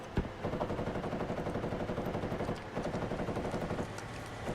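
Rapid automatic gunfire rattles steadily from the video game Squad, bursts of shots repeating with short pauses, fairly distant and slightly muffled.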